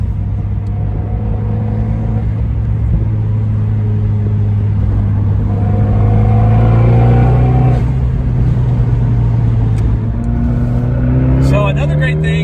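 Magnaflow System One exhaust on a Fiat 124 Spider Abarth rumbles steadily at idle and low revs with a deep droning tone, rising slightly late in the clip, close and loud throughout.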